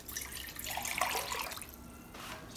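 A cup of water poured into a pot, a brief continuous splashing pour up close that tapers off into a quiet trickle.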